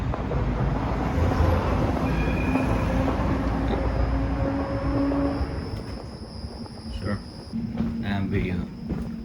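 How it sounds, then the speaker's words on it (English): An Amsterdam tram rolls past close by with a steady loud rumble and rail noise, fading slightly toward the end, with brief squeals and clatter and some speech in the background. "over there is my tram"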